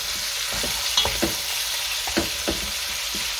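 Flour-dusted beef sizzles steadily in a hot pot for a paprika stew, with a spoon stirring through it in a series of soft scraping knocks over the constant frying hiss, close and fairly loud.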